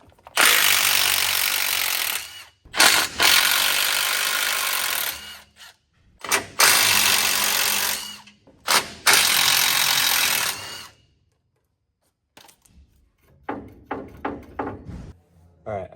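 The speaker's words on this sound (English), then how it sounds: "Now we're getting this sway bar unbolted." Power tool bursts working loose sway bar bolts on a Duramax truck during a solid axle swap, four long loud runs separated by short pauses, then a series of short choppy bursts near the end.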